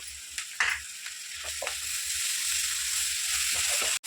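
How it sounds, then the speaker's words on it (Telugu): Ginger paste, turmeric, curry leaves and green chillies sizzle in hot oil in a pan, a steady close frying hiss with a few stirring scrapes and taps, no voices. "అల్లం పేస్ట్ పసుపు కరేపాకు పచ్చిమిరపకాయలు ఇట్లా వేగిపోయింది కదా"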